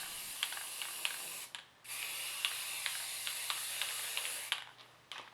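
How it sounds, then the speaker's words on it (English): A can of brown spray paint hisses in long, steady bursts with a brief break, faint ticking and clicks scattered through the spray, coating a miniature display case. "The first step was to paint the whole thing with a brown spray paint."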